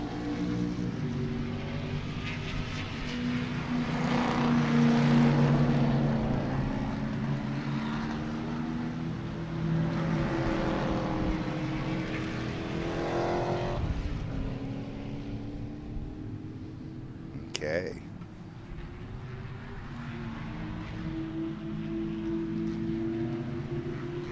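Big-bore race cars at Sebring roar past on throttle, engine drones rising and fading at mid distance with a sharp clack partway through, no talk.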